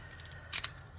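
Scissors snip through paper for a junk journal pocket, a brief close crunch of two or three quick cuts in a quiet room.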